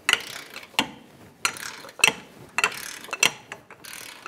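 A wrench loosens a control arm bolt with a captured nut on a 2007-2013 Acura MDX front suspension, giving about eight sharp, close ratcheting clicks in an uneven rhythm, alone without talk.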